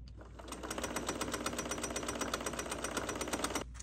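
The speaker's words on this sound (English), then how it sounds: "let's sew using 1/4 inch seam allowance." A sewing machine runs steadily, stitching a fabric strap with a quarter-inch seam allowance: a fast, even mechanical chatter that holds continuously for over three seconds and then stops, close and alone with no talking.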